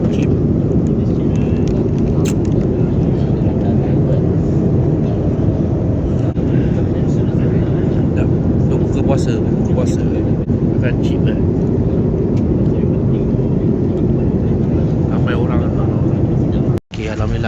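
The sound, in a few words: airplane cabin during flight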